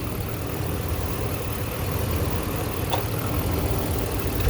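A 2018 Ram 1500 SLT pickup with its 5.7 liter HEMI V8 idling, a steady low rumble held at an even level, close by and with no talk over it.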